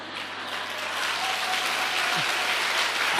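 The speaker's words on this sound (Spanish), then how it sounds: "Gracias por el aplauso" Applause from the audience at a live talk event in Córdoba, a broad even roar of many hands growing slightly louder and holding steady, with a faint hum beneath.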